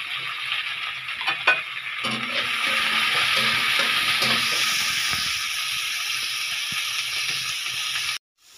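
Sliced onions fry in oil in a pan with a bright, continuous sizzle and hiss, broken by a few scraping stirs early on, then the sound cuts off abruptly near the end.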